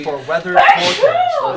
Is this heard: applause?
no